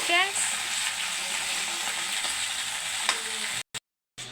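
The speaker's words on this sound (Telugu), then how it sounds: "బెండకాయ వేసుకొని కలుపుకోవాలి" Okra fries in a pan while being stirred, a close, even sizzle with light scraping, cut off abruptly by near silence at the end.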